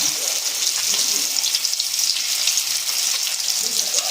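Chicken shami kababs fry in a pan with a bright, constant sizzle, while occasional soft knocks and scrapes mark the patties being turned one at a time.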